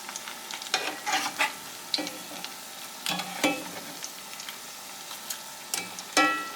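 Tuna patties frying in a pan over medium heat just after flipping, a steady sizzle broken by sharp clicks and spatula scrapes at irregular intervals, close and fairly loud.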